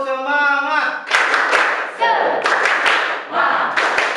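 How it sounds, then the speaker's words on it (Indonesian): A school class chants, then does a rhythmic spirit clap in quick bursts with short pauses between them, loud and close, voices mixed in. "Tepuk semangat."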